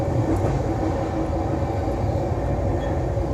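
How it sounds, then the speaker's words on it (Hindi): The 12565 Bihar Sampark Kranti superfast train overtakes the Sangam Express at Tundla, heard from inside a 3AC coach as a steady, loud rumble of rolling wheels and carriage noise without any break. "and overtaking Sangam Express finally at Tundela."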